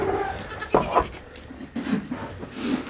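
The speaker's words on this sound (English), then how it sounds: "Apparently Sam fixed the fence so that the goats can't leave this yard, but Posey can, but she can't come back." Goats bleating in a farm yard, a few short nasal bleats close by with scratching and shuffling between them, no talking.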